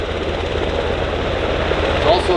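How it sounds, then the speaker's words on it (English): US Coast Guard MH-60 Jayhawk twin-engine medium-range helicopter and MH-65 Dolphin at an airshow in London, a steady rotor and engine drone running throughout under the general crowd and ambience. "The helicopter on our left is the MH-65 Dolphin. The helicopter on our right is the MH-60 Jayhawk."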